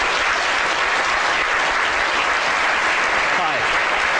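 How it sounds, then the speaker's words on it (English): A university team is welcomed on stage at a 2011 lecture with loud, dense audience applause, steady and continuous throughout. "Big round of applause, please."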